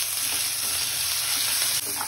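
Steady, loud sizzling of ginger, garlic and green chili frying in hot oil for the Uttarakhandi dish phaandu, with a brief stir near the end.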